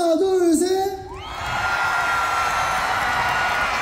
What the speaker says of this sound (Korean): 우리 뒤에 분들만 함성 한번 들어볼게요.